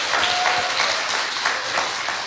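Audience applause during a Korean talk show taping fills the stretch, a dense, loud wash of many hands clapping steadily with no voices over it.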